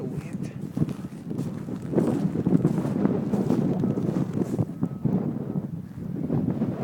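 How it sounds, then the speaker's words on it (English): Strong blizzard wind blowing snow roars and buffets the microphone in gusty surges, loud and close, with a voice briefly audible amid the rush. "wind blows the snow. It's pretty strong and painful."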